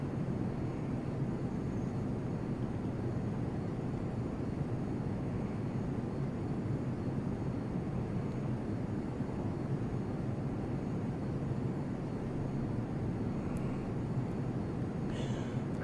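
Aircraft engine drone in the Prepar3D v2 flight simulator game while flying over New York City, a steady, unbroken hum held throughout at moderate level.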